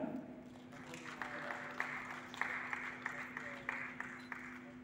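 Audience clapping at the WISCA 2023 safety culture award ceremony in Indonesia, a moderate steady patter of many hands over a continuous low hum, with a voice faintly present beneath.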